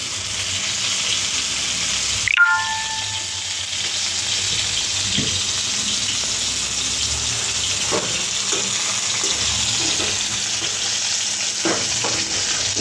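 Food frying in refined oil: a continuous close sizzle with a brief metallic knock early on and a few soft clinks and stirring scrapes over it.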